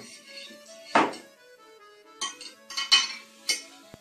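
A spoon clinks and taps against a container while bubble solution made with dish detergent is stirred, giving a few scattered knocks and scraping clinks with pauses between them, with no one talking.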